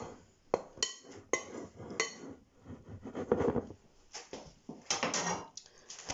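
Baking powder being mixed into flour for buttermilk scones in a bowl, with repeated clinks and scrapes of a utensil against the bowl, close and moderately loud, in bursts with short pauses and no talking.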